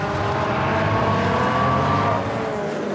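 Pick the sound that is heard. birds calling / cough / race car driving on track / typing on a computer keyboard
race car driving on track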